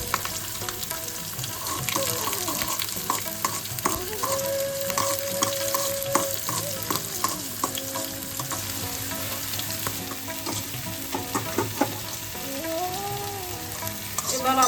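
Dry red chilies, slit green chilies and nigella seeds sizzle and crackle in hot oil, with a continuous close sizzle broken by frequent small pops and stirring scrapes.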